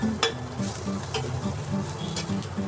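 A butter, garlic and egg mixture with pepper is stirred and fried in a pan, producing a close, rhythmic spatula scrape over a constant soft sizzle.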